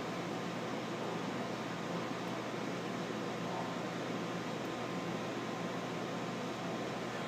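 The main fan of a Perfect Fry PF720 fryer runs in a steady, even whoosh of airflow with no change in level, close by and with no voices.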